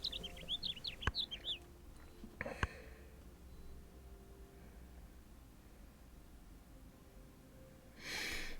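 Bird call from the Wingspan board game, a short run of bright, high chirps and twittering at the start, followed by a couple of sharp clicks and a faint low background hum.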